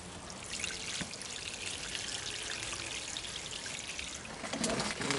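Water pours in a steady, gentle stream onto the soil of a plant pot to soak it, a soft continuous trickle that swells slightly louder near the end.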